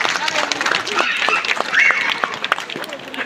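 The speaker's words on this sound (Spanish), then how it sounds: "Que se escuchen los aplausos para despedir a estos pequeñitos." Audience applause for young children at a dance presentation in Tabasco, a burst of scattered clapping mixed with crowd chatter and shouts, fairly loud and close.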